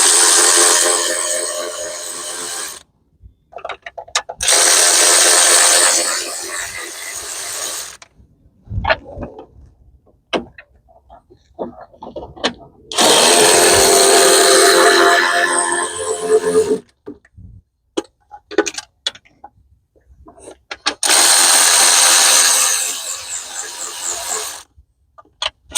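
A ratchet on a 3-inch extension backs out bolts while removing the thermostat housing and intake on a 2.4L Honda Accord, sounding as several loud, long bursts of rapid clicking with quieter metallic handling between them.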